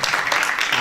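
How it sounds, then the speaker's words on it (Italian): Live audience applause at a Roman folk song performance, a dense, steady patter of many hands clapping throughout a brief moment. "Fatevi un applauso perché già vi vediamo molto attenti."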